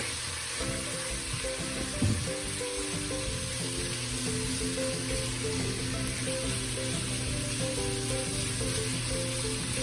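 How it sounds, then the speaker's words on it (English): Shrimp frying in garlic in a pan give off a continuous, steady sizzle, close and moderately loud, with a brief clatter partway through and no talking. "So let's fry these shrimp up in the garlic."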